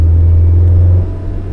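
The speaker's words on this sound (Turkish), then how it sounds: "Bak şimdi mesela böyle egzoz sesi biraz fazla geldiyse." A Tofaş car fitted with a Varex exhaust valve rumbles with a loud, deep, low exhaust drone that holds steady and then drops off sharply partway through, heard alone at close range.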